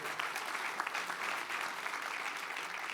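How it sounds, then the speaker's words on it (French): Audience applause at a closing ceremony in the Palais des Congrès d'Antibes-Juan-les-Pins, a steady, dense patter of many hands clapping throughout, moderately distant and continuous with no talk. "On peut l'applaudir une nouvelle fois"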